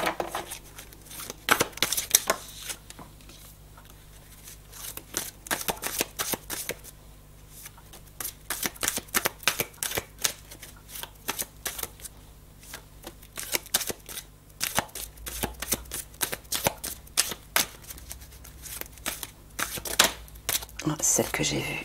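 Tarot cards are handled, shuffled and laid down on a table in a dense run of crisp, close snaps and slaps, with a person talking intermittently over the card sounds.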